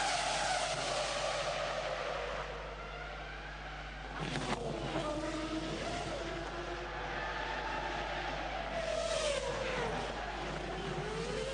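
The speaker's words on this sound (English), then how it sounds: "High-speed crash" A Formula 1 car at the Monaco Grand Prix skids with sustained tire squeal and engine noise over several seconds, followed by a harsh burst of impact and scraping around the middle, then engine whine and skidding resuming, loud and close.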